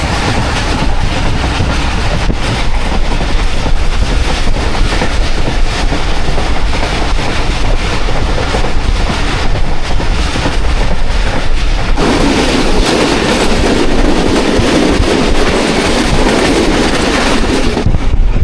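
The Shah Hussain Express runs through Mubarakpur railway station without stopping, a loud continuous rumble and rattle of rail cars passing close by that deepens and grows heavier in its final seconds.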